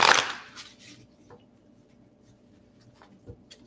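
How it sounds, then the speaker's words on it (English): A deck of playing cards is shuffled up close, with a loud riffling burst at the start that fades into softer card handling and a few small taps, with no talking. "I'm going to shuffle this different."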